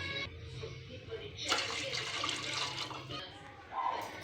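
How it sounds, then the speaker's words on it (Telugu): Water pours into a pot of rice in a steady splashing rush for a couple of seconds, then stops, with soft kitchen noises around it. "ఇప్పుడు మనం వేసరికి వాటర్ వేసుకుందాం"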